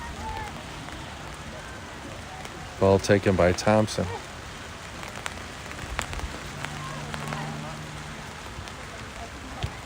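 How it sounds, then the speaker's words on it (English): Steady rain falling on a surface during an outdoor soccer match in Utica, NY, a constant hiss running throughout, with a commentator talking over it and brief louder sounds partway through. "And here comes even more rain."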